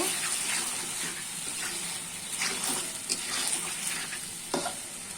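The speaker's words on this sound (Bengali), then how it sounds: "মাংসগুলো আমি কিছুক্ষণ ভেজে নিব" Chicken pieces frying in a pan with onion paste for a curry, a constant close sizzle broken by several stirring scrapes and light clinks of a spoon against the pan.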